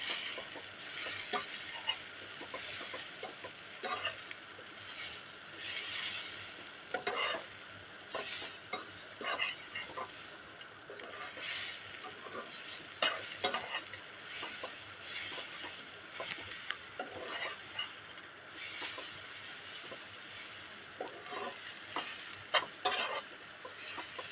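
Chow mein with salt, chopped nuts and chopped chilli is tossed and stirred in a sizzling pan, with a constant frying hiss under repeated scraping strokes and occasional utensil knocks, close and steady throughout.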